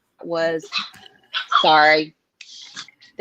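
A dog barks in a loud, close burst of several yelps and yips while a person talks, in a home setting during a work-from-home live stream.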